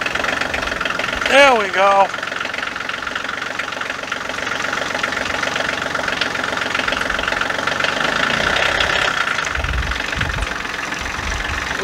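A Kioti CK2610 tractor's diesel engine cranks and catches, then idles with a steady rumble throughout; someone speaks briefly near the start.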